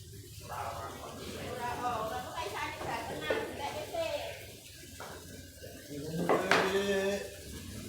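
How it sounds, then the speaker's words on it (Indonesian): Dishes and glasses being washed in a busy communal kitchen, with clinks and clatters of crockery and splashing water under the chatter of voices, including a child, and a sharper clank near the end. "Kita ke bagian cuci piring, lihat-lihat kesibukan cuci piring dan gelas."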